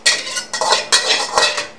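A frying pan knocks and scrapes against a stove and utensils in a kitchen making a Thai-style stir fry, with several sharp metallic clatters close by and no talking.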